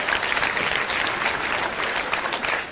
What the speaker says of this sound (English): you guys deserve a round of applause for that